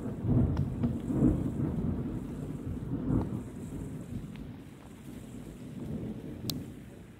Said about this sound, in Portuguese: Deixa os trovão, os trovão.